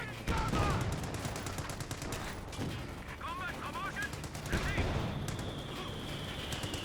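Battle noise from Company of Heroes 2 in which mortar rounds and gunfire crack and thump over dense rumbling combat, with a voice speaking over the mix.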